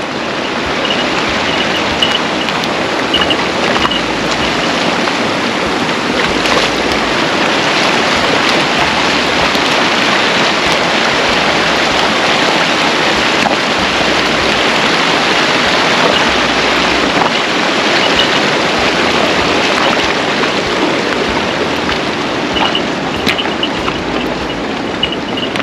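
Rushing river water at a horse crossing on the Amarnath Yatra route in 2021, a loud, dense, unbroken roar of turbulent flow filling the whole stretch.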